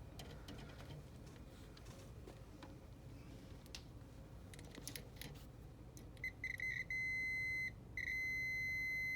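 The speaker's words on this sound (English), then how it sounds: "this sound means there's continuity between the two wires" A multimeter continuity tester touches the red hot lead and white neutral wire and gives a steady electronic beep. The tone starts broken and stuttering, then holds, after a quiet stretch of faint handling.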